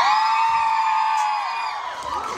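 A concert crowd on the Choke Tour in Bremen, mostly young fans, screams and cheers for the tour team, a loud sustained high-pitched roar of voices that eases slightly near the end.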